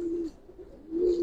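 A male Giribaz silver pigeon gives a steady, close, low cooing, with one coo at the start and a longer one near the end and a quiet pause between.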